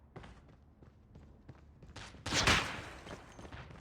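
Sniper rifle fire from a DL Q33 in Call of Duty Mobile, with scattered thuds early on, then a loud sharp blast near the middle whose hissing tail decays over a second or so.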